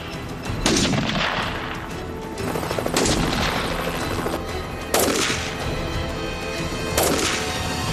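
Gunfire from a US Coast Guard HITRON helicopter gunner during a law enforcement engagement: four spaced heavy shots, each a sharp crack with a trailing boom, over steady rotor and engine noise.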